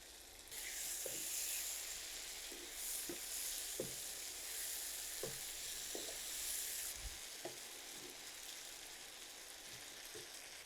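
Potatoes fry in hot oil for garlic bhaji, giving a steady close sizzle with scattered stirring clicks and scrapes throughout.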